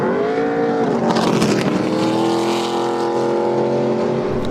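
An ARCA Menards Series West race car engine refires at Phoenix after the 05 car spins sideways. It holds a loud, steady harmonic drone close by, with a brief revving swell in the middle and no talk.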